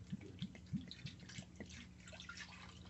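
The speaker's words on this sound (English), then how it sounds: "take that brandy, you know, any kind of brandy, just get it brandy. Pour that over the pear like this." Brandy poured over a cut pear: soft, faint trickling and dripping liquid with a few distinct low splashy drips early on, quiet and close.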